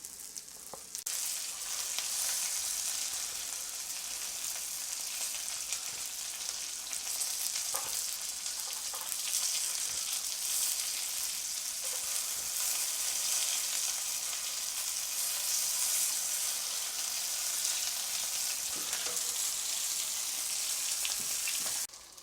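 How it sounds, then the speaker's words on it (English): Racks of rabbit fry in a pan with a loud, continuous sizzle and spitting crackle, steady for the whole stretch with no talking. "rabbit racks in, see how these behave"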